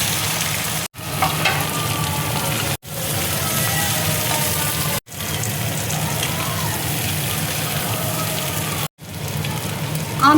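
Potatoes and cumin seeds fry in hot oil in a pan, giving a steady bright sizzle with stirring scrapes, broken by a few brief gaps as ingredients go in.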